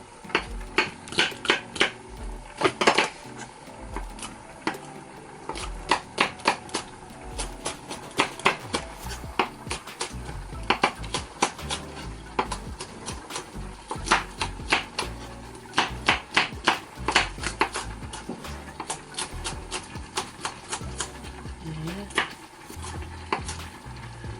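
Mini bell peppers being sliced with a knife on a cutting board, a run of crisp, rhythmic chopping taps in quick bursts, close and fairly loud, with brief pauses between runs.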